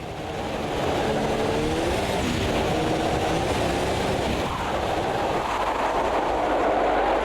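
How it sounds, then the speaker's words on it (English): A race car engine under throttle in the rain in the Automobilista 2 racing game, a loud, sustained droning roar with rising and falling pitch sweeps as the revs change, heard alone without talk. "let me get on the power when going through here and see how hard it is to actually go on the throttle"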